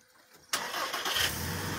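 A car engine at a government house cranks and catches partway through, then settles into a steady, fairly quiet idle close by, with no voices.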